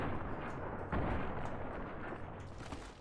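Gunfire in the video game Fallout New Vegas: a dense, loud burst of shots running continuously for about three seconds with no talk over it.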